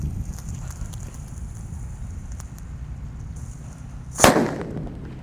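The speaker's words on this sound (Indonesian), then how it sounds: "Mercon petir sudah menyala." A mercon petir firecracker, its fuse damp from rain, bursts in one sharp loud bang after several seconds of low outdoor rumble, with the report ringing briefly before fading.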